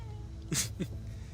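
A human voice imitates a cat with a quick, short meow-like yelp and a second smaller sound, heard close and brief over quiet background.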